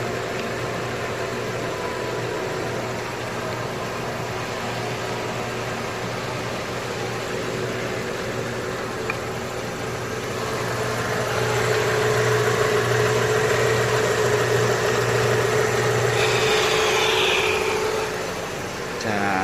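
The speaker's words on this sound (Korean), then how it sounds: "이 상태로 엔진 가동을 한 상태에서 10분간 유지하도록 하겠습니다" A Kia Optima engine idles during an engine flush before an oil change, with a steady, low mechanical hum that grows slightly louder partway through and keeps running to the end.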